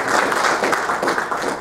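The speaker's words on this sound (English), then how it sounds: "let's give him a round of applause" Audience applause at a behavioral-based safety training session, steady dense clapping from a small group in a room, close and fairly loud for a second or two.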